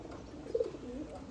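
A sick pigeon gives a single soft, brief coo, faint and close, in a quiet space.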